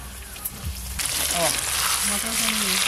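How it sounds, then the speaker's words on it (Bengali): Paneer pieces fry in hot oil with a bubbling sizzle that swells loudly after a quiet start, a few clinks and some faint voices underneath. "পনিরগুলো একদম হালকা করে ভেজে তুলে নেব"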